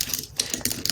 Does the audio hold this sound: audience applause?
no